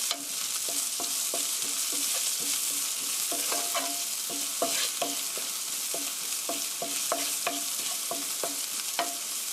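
Green onion and garlic stir-frying in a pan for braised chicken, a steady close sizzle with repeated scraping and stirring strokes of a utensil throughout, no talking.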